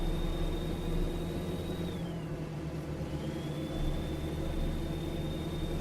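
A Kenworth W900 truck with a 625-horsepower Caterpillar C15 engine in American Truck Simulator drones steadily with a deep, close, continuous rumble, holding an even level throughout with no voices.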